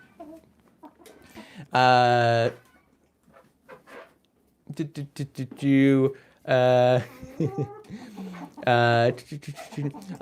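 Chickens clucking and squawking in loud, drawn-out bursts with short choppy clucks between, close by, with no talk.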